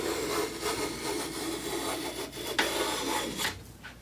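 A Veritas No 1 bevel-up bench plane takes a shaving from straight-grain oak, a close, dry rasping stroke lasting a few seconds, moderately quiet with no talk.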